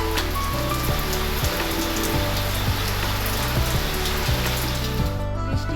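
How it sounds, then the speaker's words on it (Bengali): Heavy rain pours steadily with gusting stormy wind during Cyclone Remal, a dense, loud, unbroken roar with scattered close drips and knocks on nearby surfaces. "যেমন বৃষ্টি হচ্ছে তেমন ঝোড়ো হাওয়া বইছে।"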